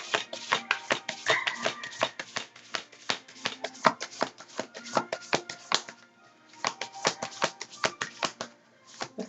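A Priestess of Light card deck is shuffled by hand in a rapid, close run of crisp card slaps and riffles that keep going for several seconds and pause briefly near the end.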